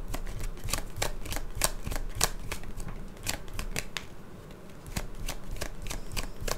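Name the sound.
tarot cards being shuffled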